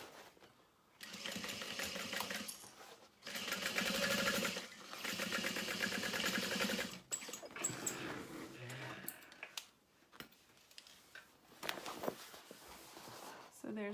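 Sewing machine stitching a beauty bag up against stiff Peltex interfacing, with bursts of steady motor hum and needle chatter starting and stopping, separated by quieter handling sounds.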